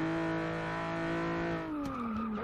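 A Hyundai Genesis track car in Forza Motorsport 6 gives a steady, harmonic engine drone at high revs that dips in pitch near the end as it lifts off and turns, without any voices.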